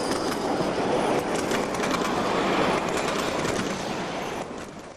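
A model train of express cars runs along the track at the Train Mountain miniature railroad, giving a steady, close rolling rumble with faint clatter that fades slightly at the end.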